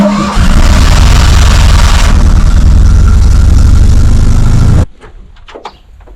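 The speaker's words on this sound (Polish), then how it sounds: "Co to za auto jest? Maluch. Fiat 126P." A Fiat 126P engine drives with a loud, steady, low rumbling drone that cuts off abruptly near the end, followed by quieter clicks and handling noises.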